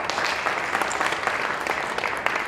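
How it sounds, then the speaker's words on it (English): Conference audience at a women entrepreneurs' event clapping for a supporting foundation, a sustained wash of many hands applauding at moderate loudness. "And next round of applause, I really want to give Canada India Foundation."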